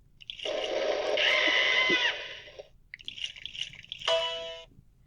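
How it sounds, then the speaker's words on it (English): Video game waterfall rushing water pours loudly for about two seconds, followed by scattered splashy drips and a short final gush. "Ah, the delightful sound of going over a waterfall."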